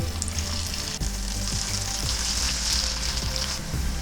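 Cauliflower 65 pieces frying in hot oil, a loud, steady bubbling sizzle with occasional crackles and faint scrapes of a utensil, close up and with no talking.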